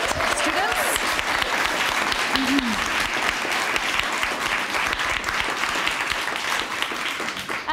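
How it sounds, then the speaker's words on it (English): An audience at a student poetry recitation contest gives sustained, dense applause, many hands clapping steadily for the full stretch, loud and close, with a brief voice heard early. "can I have one more round of applause for all of our fabulous poets who have read tonight"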